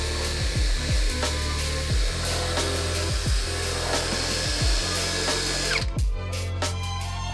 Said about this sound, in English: We attach a special brush to the drill and clean everything with the power tool.